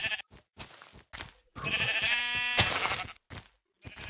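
Sheep in the video game Minecraft bleat in a run of short, wavering calls broken by brief pauses. The calls are loud and close, and one long bleat stands out near the middle.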